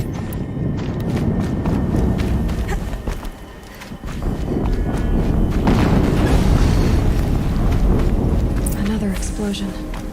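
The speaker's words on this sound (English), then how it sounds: "Another explosion." Explosion in the video game Horizon Zero Dawn: loud, dense booming rumble that dips briefly and then swells again for several seconds, with a voice speaking over the game sound.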